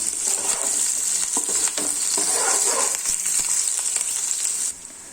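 Onions frying in a pan for vermicelli upma, a steady close sizzle with occasional stirring scrapes, continuous and fairly loud before easing slightly at the end.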